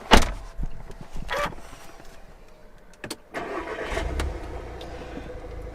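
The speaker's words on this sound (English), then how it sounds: "let me start the vehicle inside" A Volkswagen Golf MK7 engine cranks and catches after a couple of door and window noises, settling into a quiet, steady idle heard from inside the car.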